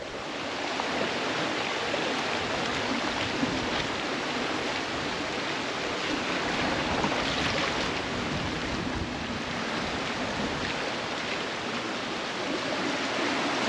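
A river running high after heavy water, a steady, broad rushing roar that goes on for the whole stretch without a break, close by and with no talk over it.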